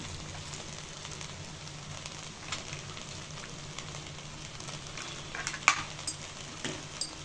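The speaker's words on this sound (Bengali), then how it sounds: "ভালো করে নাড়াচাড়া দিয়ে মিশিয়ে নিব ভেজিটেবল। আর হাই হিটে রান্না করে নিতে হবে।" Vegetables and chopped onion stir-fried over high heat for chicken fried rice, a steady low sizzle with faint scraping and a few sharper utensil clicks near the end, with no talking.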